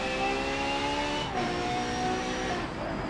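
Ferrari FXX K engine at the Nurburgring in Forza Motorsport 7, a loud, sustained high-revving wail with a brief dip in pitch as it shifts, then climbs again, with faint tire squeal underneath.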